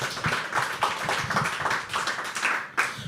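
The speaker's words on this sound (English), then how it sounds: "can we have another round of applause for him?" An audience at a live poetry open mic claps, a dense, steady patter of many hands close by that carries on without letting up.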